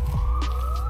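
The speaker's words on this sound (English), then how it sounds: "Sirens." A wailing siren at night in a rough suburban area, a single rising and falling electronic tone heard at moderate distance over low rumble, brief and without talk.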